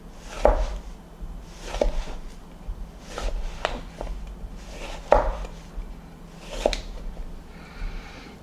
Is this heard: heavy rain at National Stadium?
no